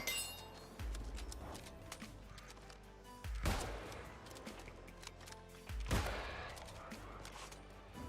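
Musket gunshots in the fantasy MMO New World, with two or three sharp reports rising from a busy game soundscape of clinks and background effects.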